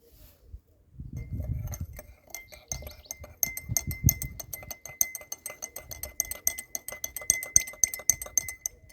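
Fertilizer is stirred into water in a glass, first with a few soft scoops and pours, then a rapid, bright run of close metal-on-glass clinks from a spoon swirling against the sides, with no talking.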